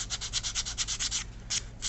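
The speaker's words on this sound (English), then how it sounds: "support it with your fingers and very gently sand it" Depron foam's curved part sanded gently by hand with the piece supported on the fingers, giving a run of quick rhythmic rubbing strokes, close and fairly soft, then a short pause and two more strokes.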